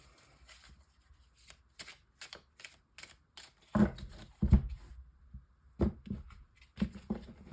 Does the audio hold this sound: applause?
no